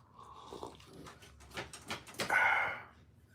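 A dog barks and growls in short, uneven bursts indoors, held back from reaching something. The sound is fairly close, building to a louder bark near the end.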